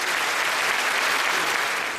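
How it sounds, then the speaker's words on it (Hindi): A large audience bursts into loud, dense applause at the inauguration of a new hospital wing at an eye-care institute in Chitrakoot. The clapping is steady and sustained throughout, with no voices. "इसका तो गौरव आप ले ही सकते हैं जोरदार ताली में।"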